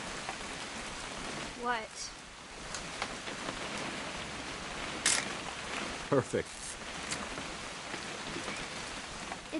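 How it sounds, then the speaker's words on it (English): Steady rain falling in the video game What Remains of Edith Finch, a constant soft hiss with a few brief clicks and short spoken exchanges over it. "It's gonna rain the whole weekend,"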